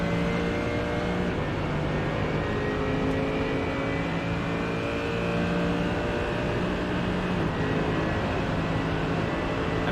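A 6.3 litre V8 GT3 race car in iRacing at Road Atlanta accelerates out of a corner, its engine droning loudly and continuously while the pitch rises steadily through the gears.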